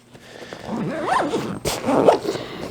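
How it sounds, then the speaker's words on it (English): A zipper is pulled shut on a pocket of a fly fishing gear bag, a close, scratchy zip in short bursts with a brief pause partway through. "And I just need to zip this"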